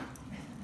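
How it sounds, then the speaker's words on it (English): Dogs playing together let out faint whimpers and soft yips in the background of a quiet room, low and indistinct. "the dogs are like playing with each other."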